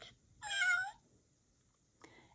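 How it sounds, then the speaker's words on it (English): A cat gives one clear, drawn-out meow, close and fairly loud, then a short faint chirp follows after a pause in a quiet room. "Cat."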